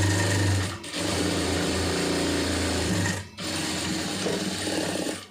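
A sewing machine runs steadily and close up while stitching a cigarette pant, a loud continuous mechanical hum that halts twice briefly before carrying on, with no talking.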